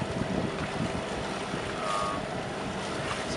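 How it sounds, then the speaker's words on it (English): A sailboat motor-sails in light breeze, with a steady low engine drone mixed with wind rush and water noise over the hull, constant and fairly close throughout. "We've been doing a lot of motor sailing."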